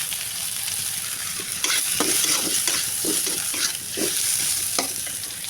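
Whole spices, cinnamon, cardamom, cloves and similar, fry in hot oil for a duck curry, giving a constant close sizzle under repeated scraping and stirring strokes, with no talking.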